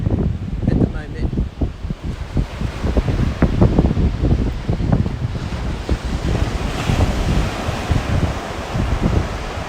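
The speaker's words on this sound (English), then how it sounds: "The wind is up a little bit, so I've got my little muffle on, hoping that the wind isn't affecting our microphone at the moment." Surf rolling onto a beach at sunrise, with heavy wind buffeting the muffled microphone in loud low rumbling gusts and a constant wash of waves throughout.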